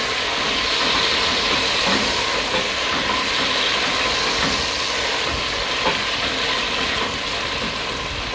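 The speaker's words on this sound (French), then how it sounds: "Nous rajoutons nos oignons. Nous tournons un peu." Onions sizzle in a very hot pan while being stirred for macaroni, a steady loud hiss of frying running without break and without any talk.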